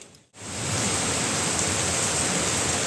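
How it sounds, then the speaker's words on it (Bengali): Heavy rain starts after a brief quiet moment, then pours steadily in a dense, loud hiss that fills the rest of the clip. "ভালো জোরে বৃষ্টি শুরু হয়ে গেছে কিন্তু আমাদের এইদিকে।"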